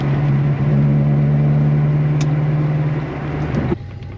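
A Honda Civic engine holding high revs around 5,000 RPM while running rough on four cylinders, a steady loud drone that drops off abruptly near the end.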